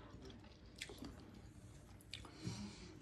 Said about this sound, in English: Crunching into it and getting that little bit of heat mixed in with the pineapple.